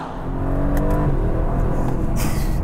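An Aston Martin DB12 engine pulls hard under acceleration, its loud, close rising drone briefly breaking as a gear shifts, with wind and road roar filling in behind.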